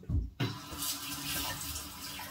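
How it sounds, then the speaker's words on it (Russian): Cold tap water runs steadily over herring being rinsed in a kitchen sink, a close, continuous splashing stream after a couple of brief handling knocks at the start. "И селедочку обязательно внутри я промываю под струей холодной воды."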